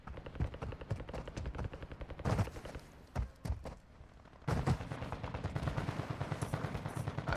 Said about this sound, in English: I'm hearing shots from all the way over here, bro.